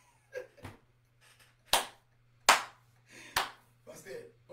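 A church congregation claps in a loose, uneven burst of a handful of sharp claps, with quiet voices in between.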